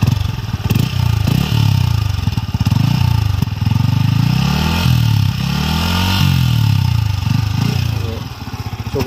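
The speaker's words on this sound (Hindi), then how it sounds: "तो आपको रेव करके भी थोड़ा बता देता हूँ," Close-up of a 2022 Yamaha MT-15 V2.0 motorcycle with a single exhaust being revved in place: repeated throttle blips rise and fall over a steady idle, loud and near, with clattering mechanical noise between the surges.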